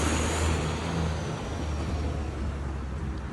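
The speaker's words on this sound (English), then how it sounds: "Oh, that's the local bus around here." A local city bus rolls past on a busy San Salvador street, a steady, close rumble of engine and road noise that holds throughout with no voices.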